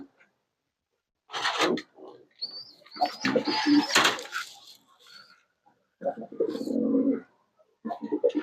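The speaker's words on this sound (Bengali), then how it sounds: "এটা খুব সুন্দর একটা কবুতর এগুলোর বাচ্চা এটা" Pigeons kept in a small home farm coo in several low, throaty bursts close by, with pauses of silence between the calls and a longer rolling coo near the end.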